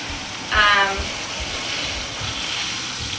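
Cold water running steadily over blonde ombre hair extensions while rinsing, a constant broadband hiss and gush with a brief louder splash near the start, heard close with no talk.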